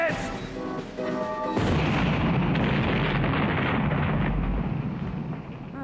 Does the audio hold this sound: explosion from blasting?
yes